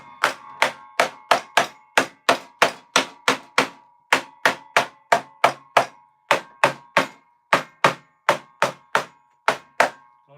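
Sharp, regular knocks sound in a woodworking workshop as wooden pieces are clamped down, about two dozen crisp strikes in quick bursts with brief pauses between groups, close and clear with no talking.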